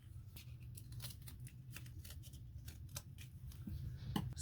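Scissors snip through base paper between printed decorations in a rapid, steady series of crisp close cuts, with no talking.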